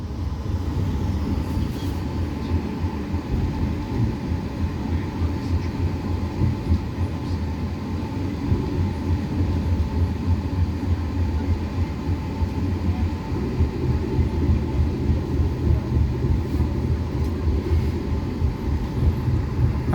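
Interior rumble of the Argo Lawu passenger train rolling steadily near Cikaum station at night, a continuous loud low drone with rail clatter that holds throughout with no speech.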